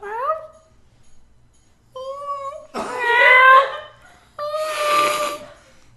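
A person imitates a cat, giving several drawn-out, nasal meows and yowls, loud and close, separated by brief silences, with one longer caterwauling cry in the middle.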